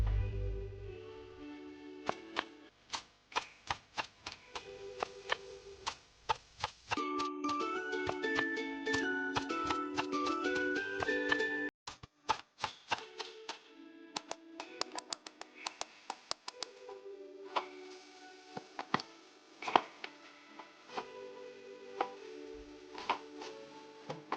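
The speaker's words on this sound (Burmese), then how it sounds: "တက်သွန်နဲ့ခရမ်းညင်သီးလေးတွေကိုလည်းခုလိုပဲလှီးထားပေးပါမယ်ရှင်" Onions and tomatoes are sliced on a board for a spicy Burmese-style octopus curry, giving crisp, quick knife taps in irregular runs, close and clear, over soft background music.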